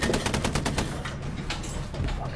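Rapid gunfire in Hell Let Loose, a quick burst of evenly spaced shots up close followed by scattered, louder reports amid battle noise, with no speech.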